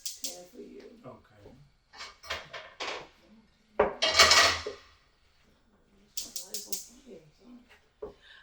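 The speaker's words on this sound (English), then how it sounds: "I'm just setting up another pan for you." A cooking pan being set up in a home kitchen while succotash and salmon cakes are made: close metal clanks and clattering cookware in short bursts, with a louder scraping rush midway and a voice talking briefly between them.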